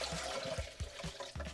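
Water poured into a cup for a protein shake, a soft, close splashing trickle that runs through the short moment with a few low gurgling bursts.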